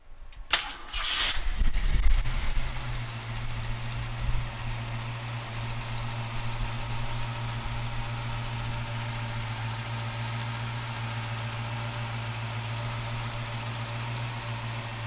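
A 1967 Ford Mustang Fastback S Code with a 390 engine cranks briefly, catches with a loud burst, then settles into a steady, throaty idle that runs close and unbroken to the end.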